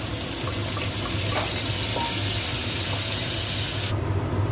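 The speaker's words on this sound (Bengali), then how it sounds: "ভালোভাবে সেদ্ধ হয়ে গেছে এবার আমি এটাকে জল ঝরাতে দিয়ে দেবো" Boiled rice for jackfruit biryani being drained of its water, giving a steady close rushing pour that runs without pause before cutting off abruptly near the end.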